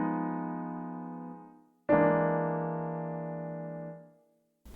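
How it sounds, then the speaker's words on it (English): Two dominant seventh flat five chords played one after the other, the second a half tone lower, each ringing out cleanly and fading in a quiet room, with a brief click at the end. "he used 2 dominant 7 chords with flat 5s in a row by going down a half tone."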